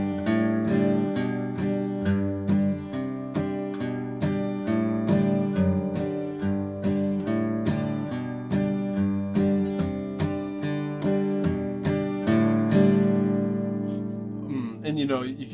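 An acoustic guitar plays a country bluegrass boom-chuck pattern, alternating bass notes with crisp strummed chords in a steady, even rhythm, close and clear, with a final chord left ringing and a brief rustle at the end.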